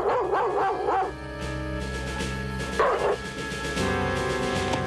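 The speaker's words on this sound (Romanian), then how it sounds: "Câinele lui Țeastă." A dog barks several times in quick succession, close and loud, over a steady droning music bed, then gives a second short burst of yips partway through.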